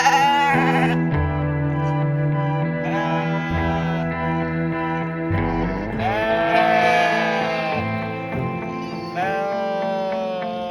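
Sheep on a farm bleat repeatedly, several loud, wavering calls overlapping one another close by, with no talking.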